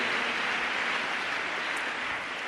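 Steady crowd applause for visiting pastors at a church interview, a dense even wash of clapping that fades slightly toward the end.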